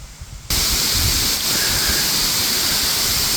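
Loud, steady rush of water pouring from beneath a large river dam gate and down the spillway, a constant broadband roar that starts abruptly after a brief quieter moment.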